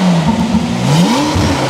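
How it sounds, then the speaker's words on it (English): A car engine revs up and down in a rising and falling whine, loud and close, with a steady rumble underneath. "Give it a couple of revs before I shut it off."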